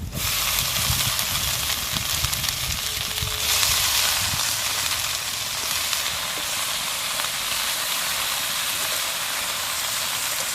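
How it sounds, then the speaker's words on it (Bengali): Water spinach greens sizzling in a hot pan with fried onion and garlic, a dense steady hiss of steam and frying that stays loud and close throughout, with no talk. "এবার আমি শাকটা দিয়ে দিলাম।"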